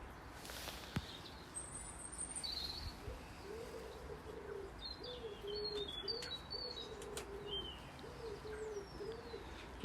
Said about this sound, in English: there's tons of blackbirds zooming around today